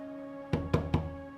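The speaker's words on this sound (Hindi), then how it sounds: "रिया, रिया बेटा दरवाजा खोल" Three quick, evenly spaced knocks on a door in a Bollywood film, close and solid against a steady low hum.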